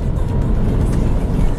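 A Maxus D60 Elite engine running, a steady low rumble that stays loud and even throughout, with no speech.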